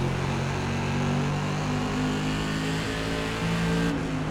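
SK Modified race car engines drone steadily at full throttle on the Hickory oval in iRacing, a loud, continuous multi-car roar with a slight pitch shift near the end.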